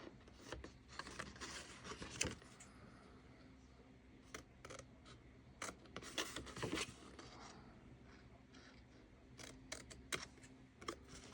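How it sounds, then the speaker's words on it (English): Scissors snip a small corner off a 6x6 sheet of craft paper, making quiet, sharp clicks and cuts in short clusters with faint rustling between. "we want to cut off this little corner right here"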